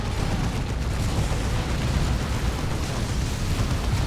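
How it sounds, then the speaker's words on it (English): Orbital bombardment strikes land in Dawn of War II: Retribution, a dense, continuous roar of overlapping explosions and rumbling blasts that stays loud and steady throughout, with no clear gaps. "there is my orbital bombardment, very, very luckily catching these Tyranids"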